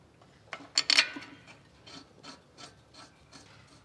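Brake caliper bolts on a 2016 Chevrolet Suburban rear disc brake job are threaded in by hand, a series of soft scraping, ratcheting turns with a few louder clicks early, close and quiet with no talk.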